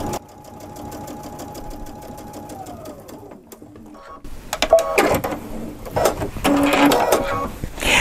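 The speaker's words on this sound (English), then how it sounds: "So let's just sew this other side, sew it together" Sewing machine stitching vinyl, its steady motor hum running for a few seconds, then fading into a quieter stretch followed by clattery, busier handling and stitching noises close to the mic.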